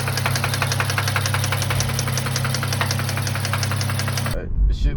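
Failing engine of an Infiniti Q50S car running with a steady, fast knocking rattle over a low drone for about four seconds before it cuts out, followed by brief handling noise.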